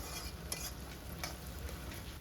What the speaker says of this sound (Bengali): এখন এই তেলের মধ্যে দিয়ে দেবো যে পেঁয়াজটা আমি রেখেছিলাম সেই পেঁয়াজটা এখন পেঁয়াজটাকেও বেরেস্তার মতো লাল করে প্রথমে ভেজে নিতে হবে